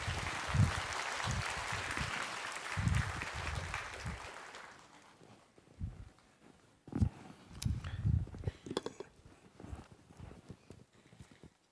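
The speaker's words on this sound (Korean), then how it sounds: "여러분 뜨거운 박수 부탁합니다." A church congregation applauds during a Sunday worship service in Seoul: a few seconds of full, fairly loud clapping that then thins into scattered, softer claps and thumps.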